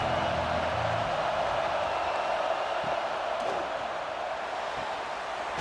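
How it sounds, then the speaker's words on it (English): Roaring football stadium crowd at a college game between Tennessee and Arkansas, a loud steady wash of massed voices holding level throughout with no clear peaks. "This crowd trying to make life miserable for this offense."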